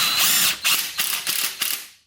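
Rapid ratcheting clicks from a wrench tightening suspension compression clamps on a Toyota Tundra truck, several quick bursts of pawl clatter close by with no talk.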